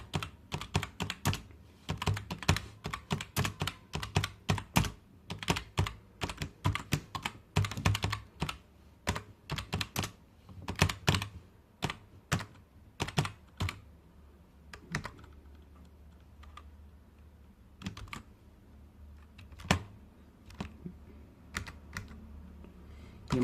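Steady bursts of keystrokes on a computer keyboard while Java code is entered, clicks coming in quick uneven runs with short pauses over about twenty seconds, close and fairly quiet, with no voices.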